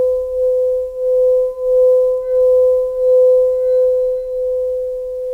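A singing bowl rubbed around its rim in slow circles gives a steady, sustained ringing tone with gentle pulsing swells, continuous and close, with no talking.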